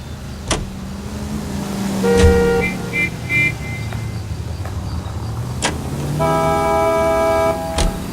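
A car drives in the LA Noire video game, with a low engine rumble running under tonal horn-like toots and musical accents, near and moderately loud throughout.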